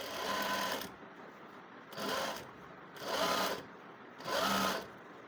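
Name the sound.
sewing machine stitching a sleeve hem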